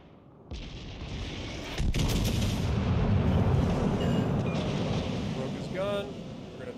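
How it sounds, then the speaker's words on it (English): Naval guns firing in World of Warships Legends, with a sharp blast followed by a second heavier boom and a sustained rumbling roar, plus faint chirping game effects near the end, with some talk underneath. "Okay, he just fired his guns too."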